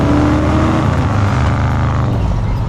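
A 1960s American car with a 383 engine pulling hard under acceleration, a loud, close, continuous rumbling drone with rising engine tone and no speech.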